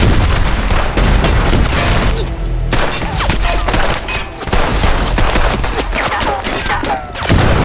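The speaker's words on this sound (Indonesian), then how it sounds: "Mereka melemparkan granat dan menembak." A dense movie gunfight roars loudly and almost without pause: rapid gunshots and machine-gun bursts mixed with heavy booms from thrown grenades.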